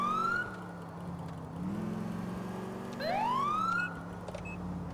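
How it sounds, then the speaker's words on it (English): Police car siren in the LCPDFR video game, a loud wailing tone that rises and falls through repeated sweeps, with a steady engine-like drone underneath and no talking. "we're going to actually go ahead and kill the siren because we are close"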